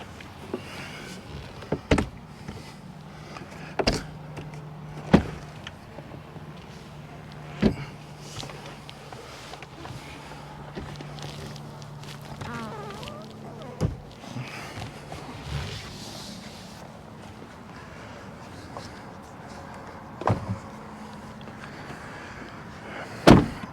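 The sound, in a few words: Ford Bronco Big Bend convertible top being folded back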